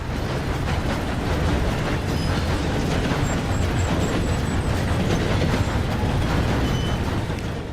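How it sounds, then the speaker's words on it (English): A train rumbles on as it comes to a stop, a loud, continuous roar of wheels and carriage noise with faint high squeals. "We then see the train stops."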